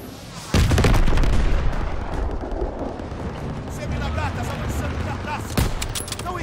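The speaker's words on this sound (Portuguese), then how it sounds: "Fogo das metralhadoras!" Rapid gunfire from machine guns in the Call of Duty WWII church-assault mission, a loud burst opening over continuous battle noise with a second heavy blast near the end, while a voice shouts excitedly underneath.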